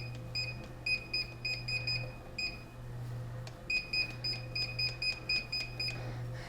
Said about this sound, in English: There's no real way to turn off that beeping in the console.